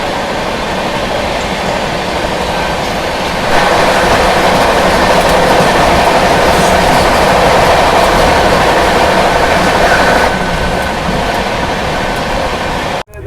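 Tejas Rajdhani Express train running on rails as it pulls away from Anand Vihar station, heard from inside a 3rd AC coach: a loud, steady rumble with clickety-clack and a brief swell in the middle before an abrupt cut.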